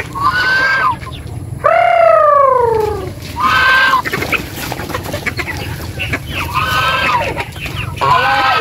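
Pet chickens, including a rooster, cluck and call in repeated bursts close by, with a long drawn-out call near the start and several shorter clucking phrases after it. The calls stand out over a low background hum.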